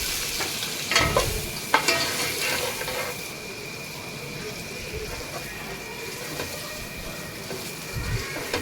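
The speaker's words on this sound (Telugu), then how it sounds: "అందులో గీ యాడ్ చేసుకొని సాల్ట్, కారం యాడ్ చేసుకొని ఎగ్స్ని ఫ్రై చేసుకుంటున్నాను" Eggs frying in a pan of ghee with salt and chili powder give a steady close sizzle, broken by a few louder scrapes and stirring knocks near the start.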